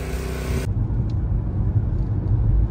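Car driving on a road on the north side of St. Louis, a steady low engine and road rumble with a brief whine at the start, continuous and close from inside the vehicle.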